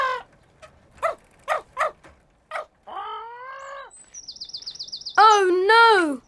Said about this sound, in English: Look, there's a parrot in the tree.